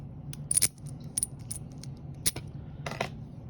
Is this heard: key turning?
yes